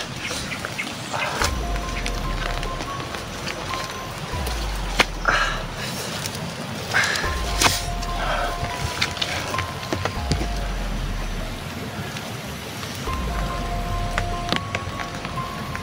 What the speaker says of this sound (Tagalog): Malakas talaga dito yung ulan